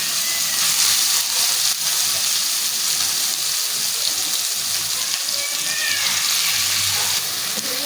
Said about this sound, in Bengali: এবার আমি যেটা বেটে রেখেছিলাম ওই জলটা দিয়ে দেবো